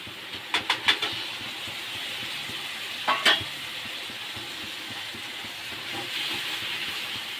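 Fish with turmeric, coriander powder, salt, mace and red masala sautéing in oil, a low continuous frying hiss with a few sharp stirring clatters near the start.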